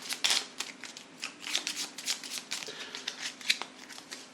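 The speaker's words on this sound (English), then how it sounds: "Just give it a quick shuffle" A deck of Mansions of Madness 2nd Edition damage cards gets a quick shuffle, giving a string of crisp riffling and slapping bursts close up at a soft level, with no speech.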